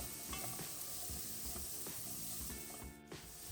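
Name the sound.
garlic and onions sizzling as they caramelize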